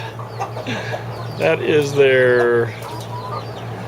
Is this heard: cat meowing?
no